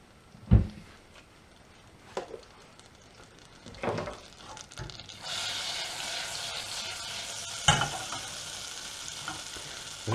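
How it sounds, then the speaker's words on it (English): A big knob of butter melts in a hot pan as the base for a lasagne roux. It sizzles softly, with a few knocks and stirring sounds early on, then settles into a steadier, brighter frying hiss for the second half. "I'm going to want a nice big knob of butter, which is going to melt up in the pan."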